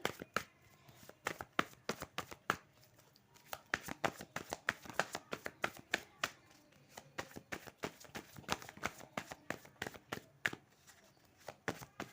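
Tarot cards shuffled by hand in a steady run of crisp riffling flicks and slaps, close and fairly quiet, continuing for the whole stretch with no talking.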